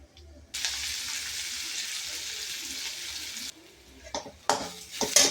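Mustard seeds and urad dal fry in hot oil in a pan while adai batter is made, giving a steady close sizzle that drops off and then returns in louder crackling bursts.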